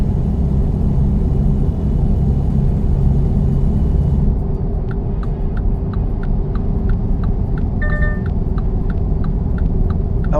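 A five-cylinder car engine in a driving simulator game drones steadily with a low throbbing rumble and hum, loud and continuous, with faint ticking clicks over it.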